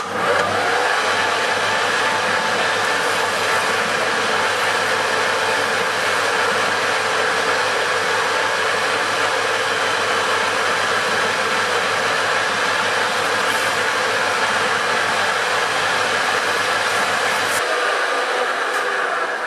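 Steady, loud whirring of a machine polishing reamed holes in a homemade valve seat cutter, a continuous grinding drone with a bright hum that runs unbroken for about twenty seconds and drops slightly near the end.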